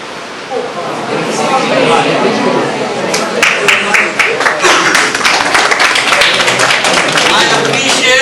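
Sustained applause from a seminar audience in Mumbai, a dense wash of many hands clapping steadily and loudly for several seconds, with a speaker's voice mixed in.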